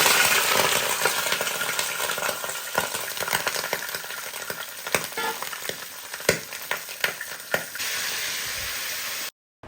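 Fish heads sizzle and crackle as they fry hard in a pan, a steady loud hiss broken by sharp pops and spatters, with no talking, ending abruptly.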